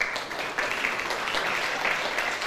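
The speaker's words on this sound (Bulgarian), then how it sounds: "Аплодисменти!" Audience at a sports awards ceremony applauding veteran athletes, a short, steady wash of clapping with no clear individual claps standing out.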